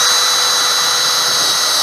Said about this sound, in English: Cameron is going to go up and put the screws in the rail